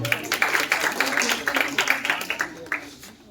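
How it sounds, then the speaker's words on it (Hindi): Audience applause for a contestant from Lucknow at an honours ceremony in Lucknow: a modest group clapping in quick uneven bursts, moderately close and steady, then thinning toward the end, with no speech over it. "मैं चाहूँगा एक बार जोरदार तालियां इनके लिए बजा दें आप लोग"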